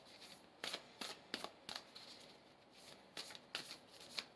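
Oracle cards from a tarot-style deck being shuffled in a series of quick, crisp riffling bursts with short pauses between them, close and fairly quiet, no talking.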